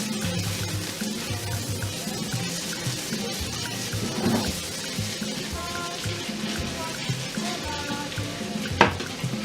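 King prawns and garlic fry in a pan with a steady, moderate sizzle, broken by stirring scrapes and a sharp utensil clink near the end.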